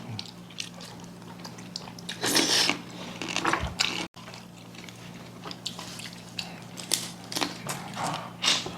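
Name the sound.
eating rice with seasoned vegetables (namul)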